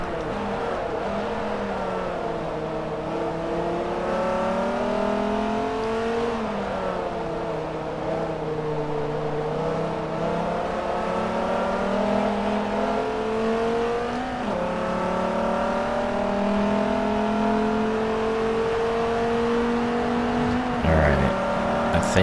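A race car's engine in Forza Motorsport 3, with Dodge track-day racing, drones loudly and continuously, its pitch climbing and dipping as it revs up and shifts through gears for about twenty seconds.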